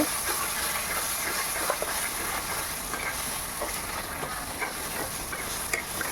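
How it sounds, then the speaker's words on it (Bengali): Steady hissing and sizzling of spices frying in hot oil, with scattered small crackles and pops, close and continuous. "মশলাটাকে আমি ভালো করে ভেজে নেব"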